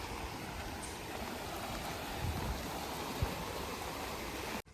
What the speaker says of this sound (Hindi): पहाड़ पर से जे पानी आबि रहल है, में से पानी आबि रहल है, आगे बहि रहल है